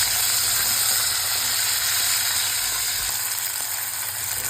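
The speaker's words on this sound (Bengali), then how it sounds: "এই যে আমার সজনেগুলো ভাজা হয়ে গেছে। এগুলো একটু ভেজে নিতে হবে" Moringa drumsticks fry in hot oil in a wok, in oil previously used for frying potatoes, producing a loud, steady, close sizzle that continues unbroken with no voices.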